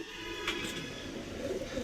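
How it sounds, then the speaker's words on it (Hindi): Pigeons coo softly amid a low outdoor rumble of background noise as flocks are kept and flown, the calls faint and intermittent. "बाकी कबूतर ये उड़ रहा ऊंचा ऊंचा"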